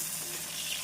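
Chopped onions fry in a pan for hotel-style chilli chicken, a brief, close, steady sizzle with no talking.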